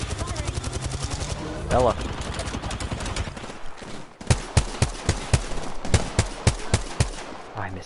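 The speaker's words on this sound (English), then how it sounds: "I missed every shot with the G7" A G7 rifle in a first-person shooter fires a string of sharp, loud single shots at an uneven pace, preceded by softer rapid firing and a brief spoken word partway through.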